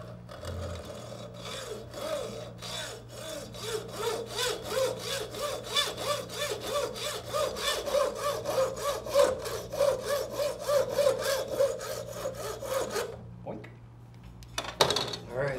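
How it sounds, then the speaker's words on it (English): Steady, rhythmic rasping strokes of sanding a brass and aluminum knife handle, close up, repeating quickly for several seconds before stopping. "The brass or the aluminum will sand real easy."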